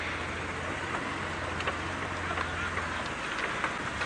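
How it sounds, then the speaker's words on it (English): Steady rain falls around an open safari vehicle on an early-morning game drive, a dense, even patter with occasional louder individual drops over a low constant engine-like hum. "It's raining. Odd drop of rain."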